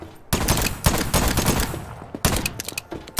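Guns fired from the hip in the game Voidtrain crack out in quick, uneven bursts, loud and close, with short gaps between volleys.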